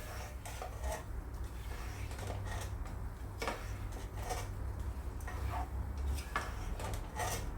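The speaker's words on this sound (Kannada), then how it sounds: "ಈಗ ನಾನು ಇವೆಲ್ಲವನ್ನು ಹಾಕಿ ಸರಿಯಾಗಿ ಫ್ರೈ ಮಾಡ್ತಾ ಇದ್ದೇನೆ." Cabbage Manchurian mixture is stir-fried in a pan, with repeated clinks and scrapes of a spoon against the metal over a soft steady background hum. No voices are heard.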